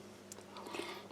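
Crunchy crackers from a Polish Arpol military ration being bitten and chewed up close, a few crisp crunches over a short moment.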